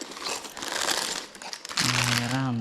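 Plastic bags crinkle and rustle steadily while being unpacked during a move, up close, with a voice starting near the end.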